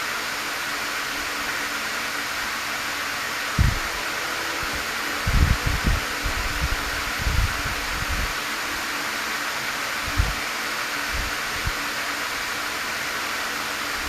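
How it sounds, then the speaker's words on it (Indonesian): Loud electric fan blowing indoors, a steady broadband whoosh running unbroken throughout, with a few faint knocks and handling sounds underneath. "Kencang kali kipas anginnya bang"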